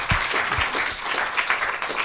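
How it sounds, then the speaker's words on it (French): A lecture audience claps in a continuous, fairly loud burst of applause that lasts about two seconds, with no voices over it. "je pense qu'on peut les applaudir."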